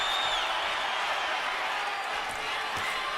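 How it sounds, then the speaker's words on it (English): Boxing arena crowd at the start of round six of a Terence Crawford fight, a broad steady roar of many voices, loud and continuous throughout with no clear breaks. "Crowd gets excited here at the beginning of round number 6"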